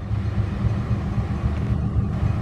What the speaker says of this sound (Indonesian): Keretanya berhenti di stasiun Leles.